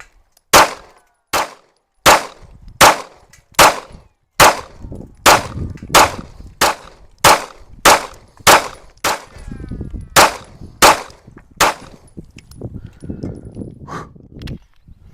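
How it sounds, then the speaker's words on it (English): Springfield Echelon pistol fired rapidly at targets: about seventeen loud, sharp shots at a quick, fairly even pace, close by, with some low room rumble and echo between the later shots. "As fast as I can accurately shoot."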